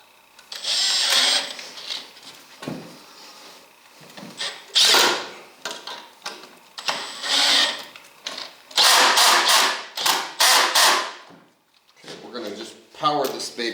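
A power drill on low speed, high torque, drives a screw into a wooden reloading bench in several loud, close bursts of whirring separated by pauses.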